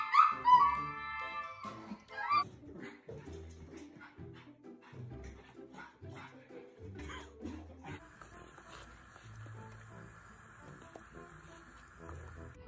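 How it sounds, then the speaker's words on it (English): Dog unhappy in a gentle lead, with high whimpers and yips at first, then scattered short barks and scuffling, close and moderately loud, ending in a steadier hum. "The dog does not like his gentle lead."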